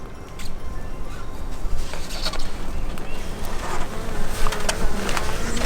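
Honeybees buzz continuously from an opened hive, a close, dense drone with scattered clicks and light knocks from handling the lid and frames, and no voices.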